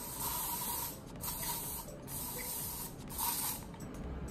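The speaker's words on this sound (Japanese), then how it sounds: "次にエルネットスプレーをつけていきます。" Elnett hair spray hissing from an aerosol can onto styled bangs in a salon, sounding as close, steady bursts of spray that swell and pause a few times.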